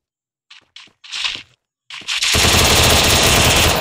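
Gunfire in a shooting video game: a few short, separated shots and bursts build into a loud, sustained rapid-fire stream that fills the last stretch, close and dominant, with no talk.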